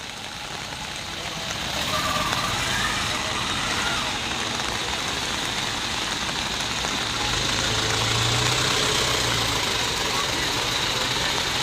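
Idling vehicle engines in a large traffic jam on a highway at Kharangkhali near Teknaf, blocked by a cattle market on the road, make a loud continuous low rumble that swells slightly, with voices talking over it.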